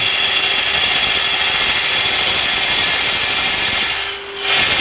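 A woodturning tool deep-hollowing a spiral twisted hollow form on a lathe gives a loud, continuous whirring, scraping drone that dips briefly near the end before resuming, with no talk.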